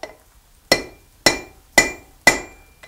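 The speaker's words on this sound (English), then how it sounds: "I'm going to use the Hardie to cut this off." Hammer striking steel over a blacksmith's hardie to cut it off, four sharp ringing metallic blows in steady rhythm, each decaying quickly, with a fainter tap at the end.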